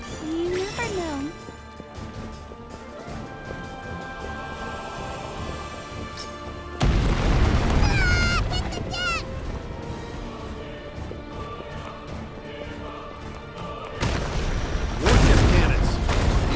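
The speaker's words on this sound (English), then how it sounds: "Warship cannons." Warship cannons fire in a castle siege in the video game Granblue Fantasy Relink, with loud booming blasts and crashes over a sustained din of battle, swelling in heavy bursts around the middle and end.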